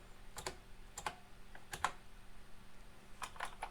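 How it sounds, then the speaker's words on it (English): Keys pressed on an IBM 3196 terminal keyboard give a handful of sharp, close clicks in uneven bursts, with pauses between presses and no voices. "You can see what keys you've pressed."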